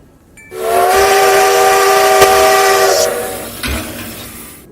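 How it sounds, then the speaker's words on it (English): Steam locomotive arriving on a railroad, its whistle blowing a loud, steady multi-tone blast for about two and a half seconds, then cutting off as hissing steam and rumbling train noise continue. "No, Chico, Bessie Lou is the name of the locomotive"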